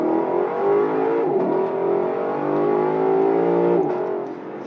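The V8 engine of a 2020 Lexus LC500 revs and pulls, its deep, throaty drone climbing through the gears with brief dips at the shifts, heard from inside the car at a steady, moderate level.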